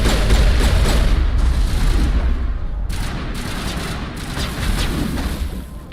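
Gunfire and booming blasts in Mass Effect: Legendary Edition, a dense, loud barrage of repeated shots with heavy low rumble running throughout, with no clear pauses.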